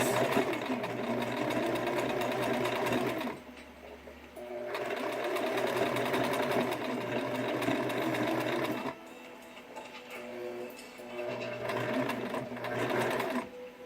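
A sewing machine stitching a seam in fabric for ladies' all-in-one panties runs in a steady, close mechanical whir, stopping briefly twice before starting up again, with no voices over it.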